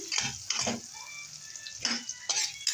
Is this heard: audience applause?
no